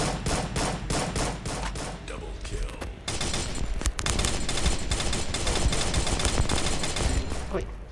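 Video game gunfire, starting as spaced single shots and then becoming sustained rapid machine-gun bursts, loud and close, with a voice heard at times.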